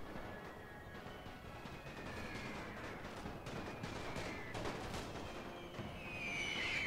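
Battlefield gunfire and artillery in The Great War strategy game, a continuous dense crackle of distant shots and rumbling fire with a few sharper bursts and a rising hiss near the end.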